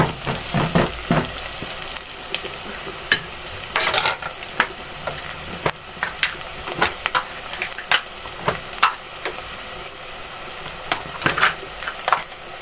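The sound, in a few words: frying ground onion with tomatoes in pot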